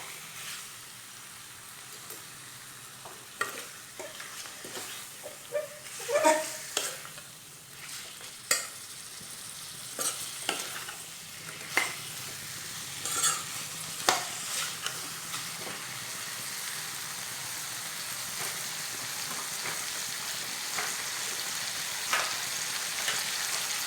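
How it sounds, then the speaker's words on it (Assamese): Chicken pieces frying and being stirred in a pan for a home-style local chicken curry: a steady sizzle throughout, broken by repeated scraping and clacking strokes of a spoon against the pan, with no talking. "এতিয়া মই চিকেনখিনি ভালকৈ 15-20 মিনিট মান ফ্ৰাই কৰি থাকিম।"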